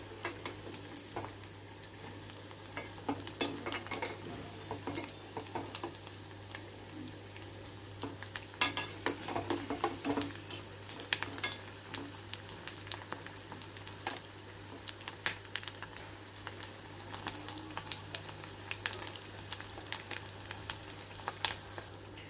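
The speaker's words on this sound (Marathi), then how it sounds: "गोल्डन ब्राऊन फ्राय करून घ्यायचे" Rice pakodas deep-frying in oil until golden brown, a quiet continuous bubbling sizzle with scattered soft clicks and scrapes of a utensil, faint and without speech.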